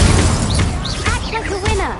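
A burst of the Incendio fire spell goes off in Hogwarts Legacy as a short, loud magical blast during combat. Game voice chatter and chirpy spell effects overlap it.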